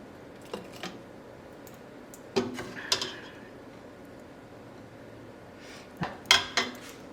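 A metal jam funnel and lid clink and clatter against a cooking pot during strawberry-rhubarb or blackberry jam canning, a few light taps early on, then sharper bunched metallic knocks near the middle and again toward the end.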